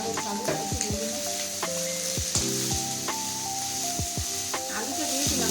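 Potato pieces frying in oil in a pan for poha, a steady hiss of sizzling with sharp metallic clinks of a spatula against the pan, as someone talks over it.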